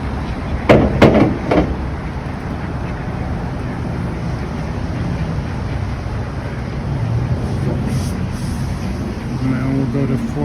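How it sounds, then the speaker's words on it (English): Steady low rumble of street traffic from overhead, heard from beneath the street, constant throughout, with a few brief knocks near the start. "Sorry about the traffic noise."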